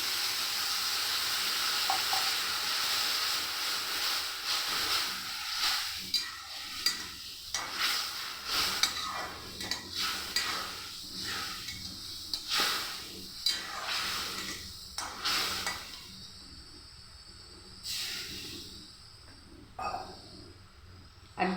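A splash of water added to a hot frying pan sets off a loud steady sizzling hiss, mixed with stirring scrapes, that gradually thins and breaks into shorter bursts toward the end.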